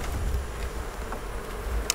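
Honeybees buzz steadily around an open hive during an inspection for Varroa mite treatment with Apiguard, a dense close humming drone with a few louder passes near the microphone.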